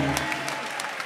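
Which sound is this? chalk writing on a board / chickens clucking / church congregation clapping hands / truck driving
church congregation clapping hands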